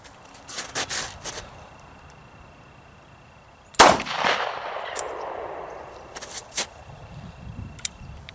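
A single sharp report from a Liberator pistol, a light, thin, folded, stamped and welded single-shot gun, firing a .45 ACP round; one loud close bang about midway with a trailing echo, preceded by faint handling clicks.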